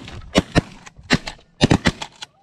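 Shotgun blasts during a six-man goose hunt: about eight sharp, loud reports in quick uneven bursts, some nearly overlapping, then fading to quiet.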